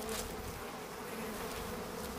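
Dense buzzing of many bees, a continuous close hum with a wavering drone and no voices.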